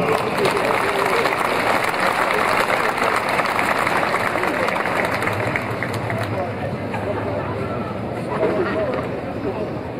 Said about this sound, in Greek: Παρακαλώ, ένα ζεστό χειροκρότημα στον πρόεδρό μας.